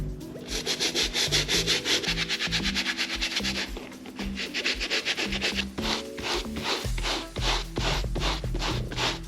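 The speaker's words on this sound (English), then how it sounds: "that was our first pass with our soft bristle brush" Soft bristle brush with soapy water scrubbing Converse sneakers, rapid rhythmic back-and-forth rubbing strokes, close and steady throughout with a brief pause midway.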